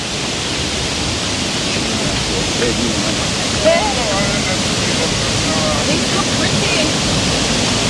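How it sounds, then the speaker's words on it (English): A river swollen by heavy rain rushes in a steady, loud roar that fills the whole clip, with faint voices barely rising above the water. "The river really come down right now."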